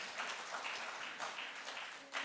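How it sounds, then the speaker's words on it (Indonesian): A church congregation at a Sunday service applauds, a faint, continuous wash of distant clapping with no clear individual hits. "tepuk tangan buat Tuhan Yesus"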